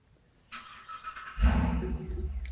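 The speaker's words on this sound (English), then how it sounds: "you're going to hear a rumble of an engine right now" Loud car engine across the street: a low rumble swells up suddenly partway in and keeps growling steadily, with a brighter hiss beforehand.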